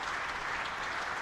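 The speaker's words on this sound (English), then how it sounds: "The Hampshire dressing room applauding." Hampshire's dressing room applauds James Vince reaching fifty in a county championship match against Northamptonshire, a steady, dense patter of clapping throughout without talk.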